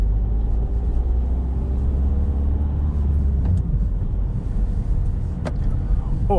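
A car moves along a Coventry road in traffic, heard as a continuous low engine and road rumble from inside a vehicle, steady and fairly loud with a brief swell midway as another car passes.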